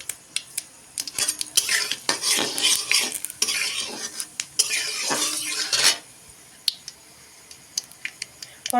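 Mustard seeds, cumin seeds and bay leaf tempering in hot oil for a Bengali raw mango dish, bursts of sizzling and popping with frequent spoon scrapes and clinks against the pan, then quieter scattered pops toward the end.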